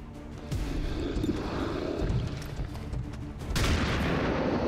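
Gunfire in XCOM 2 Long War 2, a heavy boom that opens a sustained rumbling roar, then a second louder blast near the end, close and forceful with no talking.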